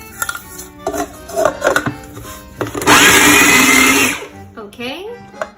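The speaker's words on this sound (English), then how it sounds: "let's use this hot water and add the salt, chili flakes, and garlic to it, and blend that first" A blender roars for about a second, whirring through hot water, salt, chili flakes and garlic for a chimichurri base, with kitchen clatter and a voice talking before and after.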